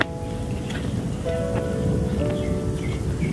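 Steady rain patters continuously on a surface, with faint tonal sounds drifting through in the background.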